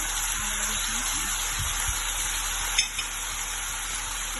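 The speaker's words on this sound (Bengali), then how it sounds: "আদা রসুন পেস্ট দিয়ে নাড়াচাড়া করবো" Ginger garlic paste stirred in a frying pan, with a prawn masala being cooked: a steady, even hiss of frying with a few soft scrapes and one sharp utensil knock partway through, and no voices.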